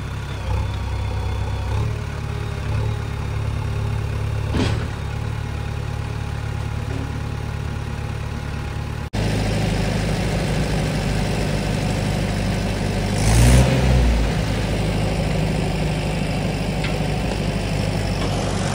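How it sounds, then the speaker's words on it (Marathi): A JCB excavator digging a channel beside a tractor path runs with a steady, continuous engine drone, loud and close, with a brief surge of revving partway through. "ट्रॅक्टरच्या पाटणाला खाजाले म्हणून JCB घालतो"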